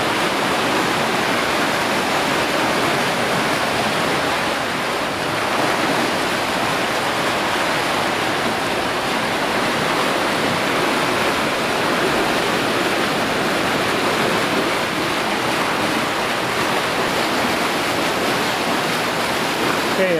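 Water at almost 17,000 gallons per minute roars through a check valve during a full flow test, a loud, constant broadband rush with no break.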